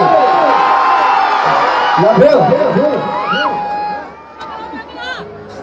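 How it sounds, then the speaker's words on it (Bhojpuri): At a live stage show in Punjab, a crowd claps, cheers and whoops loudly to welcome a guest, a dense roar of hubbub that fades near the end. "चलिए मैं चाहता हूँ कि भैया के लिए एक जोरदार ताली से स्वागत करिए आप सब"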